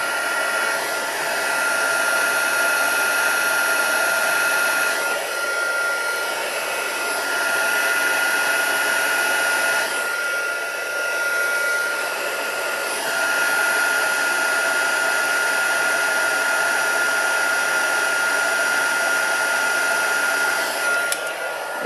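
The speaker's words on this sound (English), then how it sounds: "let's dry these off a bit because they're a bit too damp" A hair dryer blowing on damp pieces of paper card, a loud continuous whooshing whir that dips briefly a few times as it is moved, then carries on.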